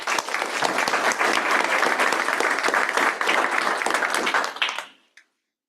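A room of people at a regular board meeting applauds a departing trustee, steady sustained clapping for about five seconds that fades quickly and stops.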